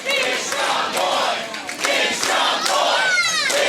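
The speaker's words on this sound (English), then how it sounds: "the crowd is always behind Ethan Price." A professional wrestling crowd roars and chants at an indoor show, a dense, loud wall of voices with rhythmic shouted chanting throughout.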